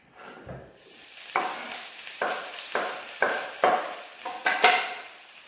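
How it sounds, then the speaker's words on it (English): Spinach tossed into a pan with garlic and extra virgin olive oil, sizzling in bursts as it is stirred, with about eight distinct scraping, clattering stirs at a steady pace, close and clear. "And I put in this pan with the garlic and some olive oil, extra virgin olive oil. I put in the spinach."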